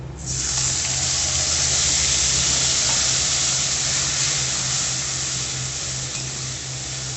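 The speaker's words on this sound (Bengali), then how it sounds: "মশলাটাকে ভালো করে কষবো" Spice paste for a stuffed pointed gourd and prawn dolma sizzles hard in a hot pan with bay leaves, a loud, steady frying hiss that holds unbroken for the whole stretch.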